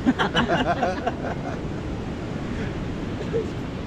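Steady roar of ocean surf on a beach with strong waves, wind rushing across the microphone, voices faintly audible at the start.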